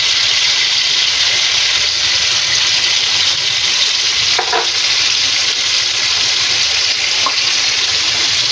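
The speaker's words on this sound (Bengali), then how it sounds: "এর মধ্যে আলুগুলো দিয়ে এবার ভাজবো। একটু নুন হলুদ দিয়ে দিচ্ছি।" Potatoes fry in a pan with salt and turmeric, giving a loud, dense, continuous sizzle with a few brief clinks of a utensil against the pan.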